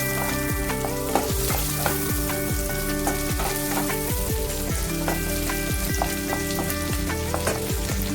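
Two small tomatoes added to hot oil with ginger and garlic for a Bengali kofta gravy, a loud dense sizzle and crackle, continuous and close, with no talk.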